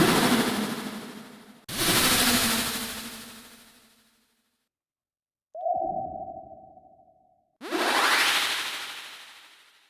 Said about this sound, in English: here's the lovely anime vlog sound